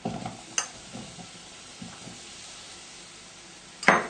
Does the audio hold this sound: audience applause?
no